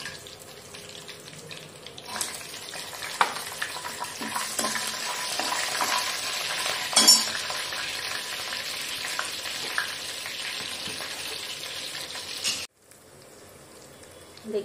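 Green chillies frying in hot oil with curry leaves and ajwain give a continuous hiss and crackle, close and fairly loud, cutting off abruptly near the end.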